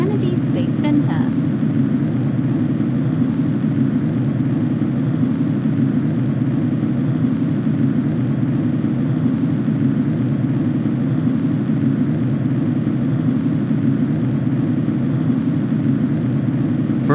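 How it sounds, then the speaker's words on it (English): Rocket engines throttling up after passing maximum dynamic pressure during a launch, a dense, unbroken low roar holding steady throughout, with someone talking over it. "craft is now throttling up as we pass from the maximum dynamic pressure area"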